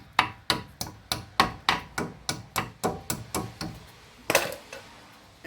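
Light metal taps seat a cotter pin through the castle nut of a tie rod end on a 2005 Ford Escape or Mazda Tribute, a steady run of about a dozen crisp, evenly spaced strikes that fade slightly, then one sharper hit after a pause.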